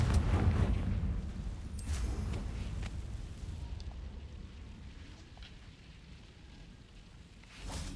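Explosion spell in Hogwarts Legacy, a deep rumbling blast that is loudest at first and slowly dies away, with a further burst at the very end.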